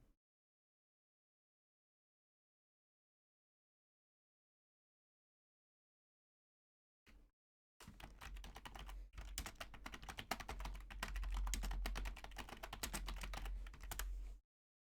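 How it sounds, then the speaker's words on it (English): Rapid, loud clacking of keys on a mechanical keyboard with blue switches, continuous and close, starting after several seconds of silence with a brief tap first. "sorry for the loud typing."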